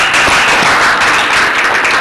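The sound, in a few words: audience clapping for a team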